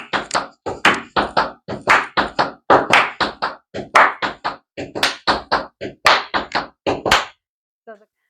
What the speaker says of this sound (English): a combination with the cramp roll and clapping your hands